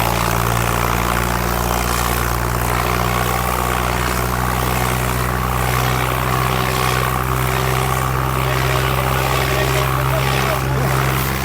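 A Massey Ferguson tractor engine drones heavily in high gear while hauling a very heavy load, a loud, steady low rumble throughout with voices speaking faintly beneath it.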